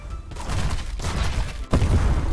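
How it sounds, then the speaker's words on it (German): Cannon shot loaded with a powder keg in the pirate ship game Unearned Bounty: a continuous rumbling barrage of loud booms with a sharp, heavy blast near the end. "Und den habe ich jetzt mit einem Sonderschuss, also mit einem Pulverfass und einer normalen Kanonenladung erledigt."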